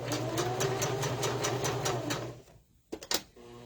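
A sewing machine runs steadily, stitching through cork fabric with a fast regular needle rhythm, then stops; a few short clicks and knocks follow as the fabric is adjusted and a backstitch begins.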